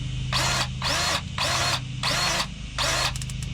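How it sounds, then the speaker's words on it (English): An electric grease gun greasing the suspension of a 1989 box Chevy runs in five short motor bursts of about half a second each, separated by brief pauses, loud and close over a low steady hum. "Then I got this electric grease gun."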